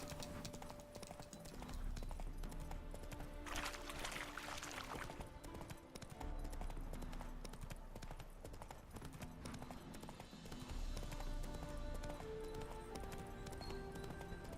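Horse hooves clip-clop at a steady walking rhythm in The Witcher 3: Wild Hunt, close and continuous over faint ambient game sound, with a brief splashy burst midway.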